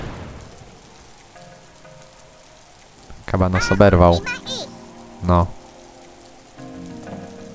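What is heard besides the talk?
rain falling in a video game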